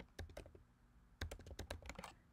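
Keys clatter on a computer keyboard in irregular bursts of clicks, with a short pause before a denser run of quick strokes, close and alone.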